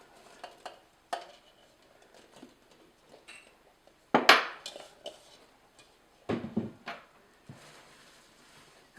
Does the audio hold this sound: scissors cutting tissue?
no